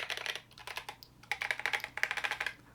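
Rapid typing on a handwired mechanical keyboard fitted with Boba U4T tactile switches, a close, crisp run of clacky keystrokes in quick bursts with a brief pause midway, heard alone without speech.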